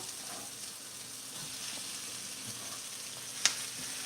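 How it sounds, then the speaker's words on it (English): Peppers added to browning onions in a pan give a steady, gentle frying sizzle throughout, with one brief clink near the end. "So I'm going to throw my peppers in now."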